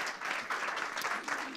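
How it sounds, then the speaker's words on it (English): Audience applause at a school board meeting, a dense, continuous patter of many hands clapping indoors, moderately loud for a short burst. "one round of applause again"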